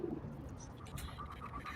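Doves cooing outdoors, soft low hooting calls repeating over a steady background hum, moderately close but quiet, with no speech.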